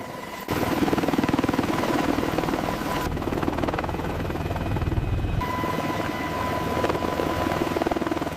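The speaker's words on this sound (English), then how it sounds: "The Apache lifts off" An Apache attack helicopter lifts off, its rotor chop and turbine roar loud and steady from start to finish, with a brief shift in tone partway through as it climbs.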